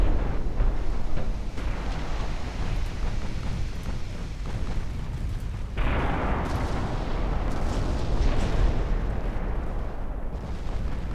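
Battleship-caliber shells exploding against a ship in the naval game Ultimate Admiral Dreadnoughts, a dense, continuous roar of booms and blasts that surges louder partway through and keeps rumbling throughout.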